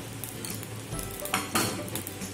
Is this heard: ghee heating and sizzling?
yes